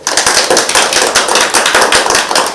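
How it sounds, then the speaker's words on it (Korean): Dense, steady applause from a crowd at a Vietnam War veterans' rally at Seoul Station plaza. Many hands clap fast and loud without a break for the whole stretch. "이분을 위해서 우리 오신 분들 박수 한번 주세요."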